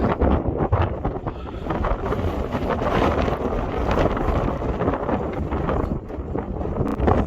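Strong wind buffets the microphone on Grindslow Knoll in the Peak District, a continuous loud rush and roar, gusting throughout with no voices.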